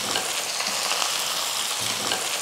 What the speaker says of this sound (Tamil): இப்போ இதை வதக்கிடலாம்